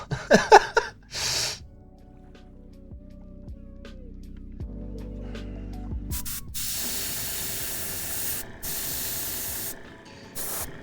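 Steady hiss of a spray gun laying thin coats of paint with overspray, broken into several long continuous bursts after a few short breaths and sniffs at the start, with a faint hum underneath.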